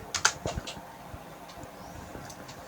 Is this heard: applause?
no